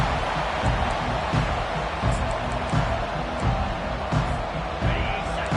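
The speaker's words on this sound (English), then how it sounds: "This crowd, full throat, splitting the eardrums and letting them know it's going to be a long day" A packed football stadium crowd roars at full throat during a game, a dense, continuous wall of noise with no breaks, loud and washing over everything else throughout.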